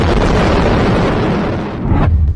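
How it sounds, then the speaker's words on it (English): A powerful explosion from a nighttime drone attack on a town in Russia's Kursk region, a loud sustained rumbling blast followed by a second thump near the end. "The moment of one of the powerful explosions was caught on video."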